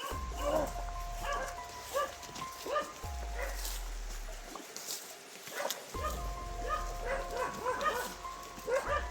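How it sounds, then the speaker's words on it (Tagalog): A dog in a video game barks and yips in short bursts, moderately close, with game sounds and a low hum around it and a brief quieter gap midway. "Aso yan ni Bungot."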